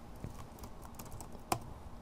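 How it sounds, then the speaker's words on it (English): A few light keystrokes on a computer keyboard while entering a word into Cricut design software, with one sharper isolated click standing out among faint taps in a quiet room. "I'll just type in the word congratulations"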